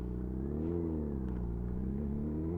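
Motorcycle fitted with a Leo Vince aftermarket exhaust, its engine holding a steady, deep rumbling note at close range with a slight rise in pitch partway through, no voices over it.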